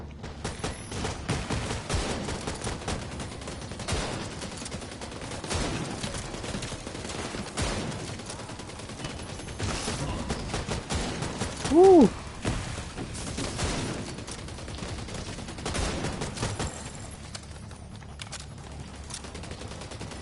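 Gunfire in The Division 2 on PS5: a dense fusillade of rapid automatic bursts crackling almost without pause, mixed with distant pops and a brief loud blast near the middle, with occasional voices underneath.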